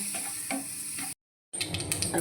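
Mustard seeds crackle and sizzle in hot oil while quail fries in a pan, a close, busy popping hiss that cuts out briefly to silence before resuming.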